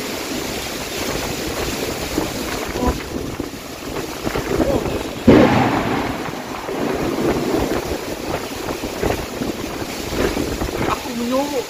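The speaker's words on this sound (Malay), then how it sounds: "Ribut." Strong wind roars and buffets the microphone with a steady rush like driving rain during a thunderstorm outdoors beside a motorcycle, while a person speaks now and then.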